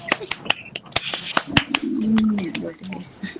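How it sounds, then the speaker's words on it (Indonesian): A small group claps hands in a classroom, quick sharp claps scattered unevenly over a few seconds while a voice speaks under them. "Kalau begitu tepuk tangan untuk kita."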